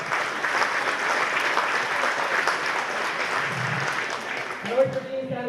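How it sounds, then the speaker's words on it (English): Crowd applause at a hurling match between Glynn Barntown and Oulart The Ballagh, steady outdoor clapping for the referee and umpires that holds throughout before tapering, with a voice starting to speak at the end. "a round of applause to the referee and the umpires"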